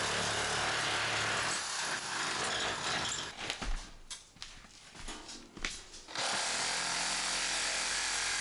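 Power tool cutting through metal roofing to open a space for an attic window, a loud continuous grinding rasp that breaks into a few uneven bursts and pauses, then resumes steadily, heard up close.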